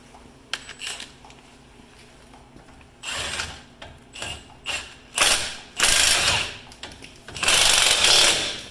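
A drill with a 12mm socket drives a bolt during front CV axle work on a 2003 Toyota 4Runner, a series of ratcheting, whirring bursts growing longer and louder, with metallic clicks between them and no talking.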